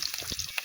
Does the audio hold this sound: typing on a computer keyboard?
no